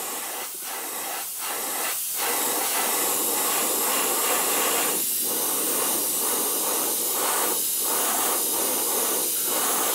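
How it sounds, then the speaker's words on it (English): An airbrush or spray can lays paint through a stencil onto a fishing lure, the hiss steady under a series of short, sharp spray bursts of varied length. "I'm aiming the spray just along this top area, and it's this overspray which is then giving you the blend."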